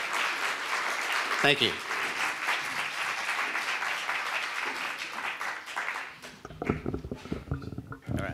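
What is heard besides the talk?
audience applause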